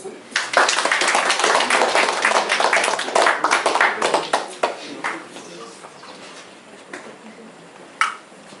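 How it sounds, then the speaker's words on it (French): Classroom applause for a pupil's recitation of a Rimbaud poem, a dense burst of hand claps fading after about five seconds, followed by a few scattered claps near the end. "Applaudissons Pierre"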